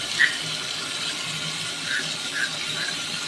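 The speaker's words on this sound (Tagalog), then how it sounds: "At madaling banlawan po ito." Tap water runs steadily over an item being rinsed clean at a sink, a close, continuous splashing stream with a few brief squeaky rubs over it.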